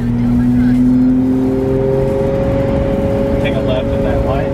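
Lamborghini Murcielago accelerating hard, its engine note climbing in pitch as gears pull, loud and close from inside the car, with road noise underneath.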